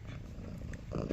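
A domestic cat purrs softly and close by, a low continuous rumbling murmur with faint fluttering, brief and quiet.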